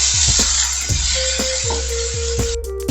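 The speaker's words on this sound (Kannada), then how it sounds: "ಎಣ್ಣೆಯಲ್ಲೇ ಒಂದು 3 ನಿಮಿಷ ಫ್ರೈ ಮಾಡ್ಕೊಳ್ಳೋಣ ಪೈನಾಪಲ್ನ." Pineapple pieces fry in hot oil for a Kannada-style gojju, a loud continuous sizzle punctuated by repeated scraping stirs of a spoon in the pan, with a brief electronic tone near the end.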